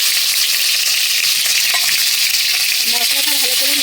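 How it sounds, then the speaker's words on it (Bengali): A spoonful of spice hits hot mustard oil and sets off a loud, dense, unbroken sizzle close up that holds steady throughout, with no speech. "তেলটা গরম হয়ে গেছে, 1 চামচ মশলা আমি দিয়ে দিচ্ছি তেলে"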